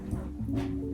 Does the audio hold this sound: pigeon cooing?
no